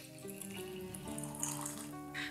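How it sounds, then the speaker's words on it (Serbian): About 400 ml of freshly boiled water poured into a mixing bowl for a flour, oil and salt dough, a steady splashing trickle lasting a couple of seconds, close by over soft background music. "U posudu odmeravamo 400 ml proključale vode."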